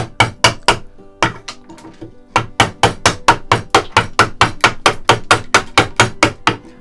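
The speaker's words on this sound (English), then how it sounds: "I'm just going to use the chisel halfway down the depth to begin with" Chisel struck with a mallet to cut a notch in a wooden plank for a birdhouse, a run of about twenty sharp, close knocks in a quick steady rhythm with a short pause early on.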